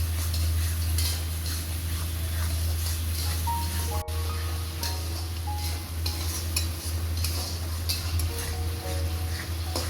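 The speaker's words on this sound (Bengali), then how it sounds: "করে কষে নেব সব দিয়ে" Spices with sugar and Kashmiri chilli being sautéed and stirred in a pan, continuous close scraping and clinking over a steady sizzle and a low hum, with one sharp knock partway through.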